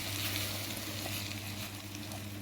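Tomato juice sizzling in a pan with okra, seasoned with salt, pepper and spices, a soft, steady crackling fry heard close and quiet throughout.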